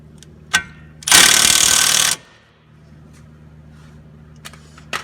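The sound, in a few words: tightening brake caliper bolts with a power tool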